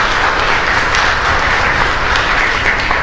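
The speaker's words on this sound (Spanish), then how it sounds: "Y un fuerte aplauso para todos ustedes" Congregation applauding during a live Catholic Mass in a chapel in Luque, a loud, continuous wash of clapping that fills the space evenly.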